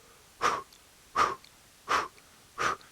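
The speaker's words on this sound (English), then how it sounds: "begin a breath of fire through the mouth" Four sharp, forceful breath-of-fire yoga exhales pushed out through the mouth, evenly spaced about every three-quarters of a second, close and breathy with silence between.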